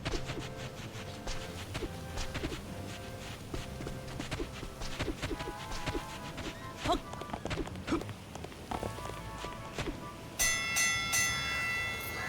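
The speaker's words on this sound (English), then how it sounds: "Oh, is that the collection bell?" The collection bell rings in Dragon Quest Builders 2, a bright chiming tone that enters near the end over busy in-game ambience, footsteps and clip-clop sounds.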